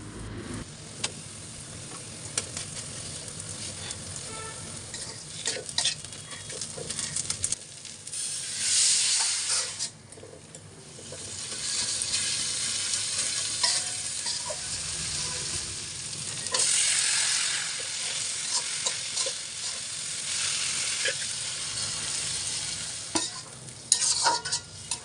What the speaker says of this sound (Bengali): ফাইনালি শীতল রান্না হয়ে গেছে, একদম ভাজা ভাজা করে রান্না করেছি।